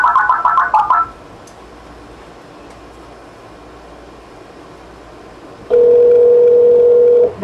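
A short burst of telephone keypad dialing tones opens the call, followed by a quiet line hiss and then a loud, steady tone that holds until the end.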